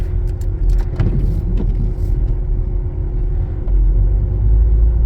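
A taxi car drives along a snowy road in Poland, heard from inside as a steady, loud engine and road rumble with a few faint rattles and clicks.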